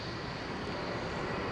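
A JetBlue Airbus A321 at Heathrow Airport fills the air with a continuous broadband jet engine roar, steady and loud, with no break.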